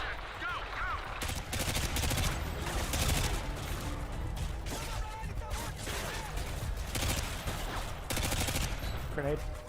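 Rapid machine-gun bursts and mixed gunfire from a Call of Duty: Modern Warfare 2 battle crackle loudly in repeated volleys, close and dense, with short gaps between bursts and faint game voices underneath.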